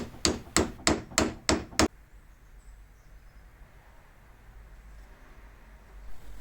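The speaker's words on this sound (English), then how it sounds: "I can use my little fitter upper thing to hammer the guard the last little bit of the way up the tang." Six sharp metal hammer strikes ring out in a quick, even rhythm, driving a knife guard onto the tang, followed by quiet room tone.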